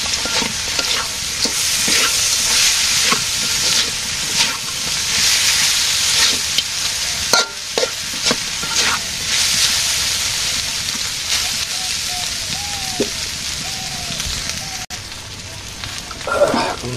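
Fish pieces fry in oil with turmeric and chili powder in a village kitchen, giving a loud, continuous sizzle broken by stirring scrapes, with a voice speaking briefly near the end.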